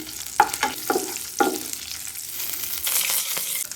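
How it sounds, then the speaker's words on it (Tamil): Cashews and cardamom fry in ghee with a soft, steady sizzle, broken by several sharp stirring scrapes close by early on, and the crackle grows brighter toward the end. "10-15 முந்திரி, 3 ஏலக்காய் நல்லா வறுத்துக்கலாங்க."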